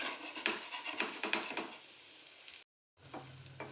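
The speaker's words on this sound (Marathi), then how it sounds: "थालीपीठ आपलं चांगलं होते त्याची आपण आता बाजू पलटून टाकू" A crispy spicy corn thalipeeth frying in a pan and being flipped: soft sizzling with a few sharp spatula scrapes and knocks, a brief silent gap, then quieter sizzle resumes with light taps.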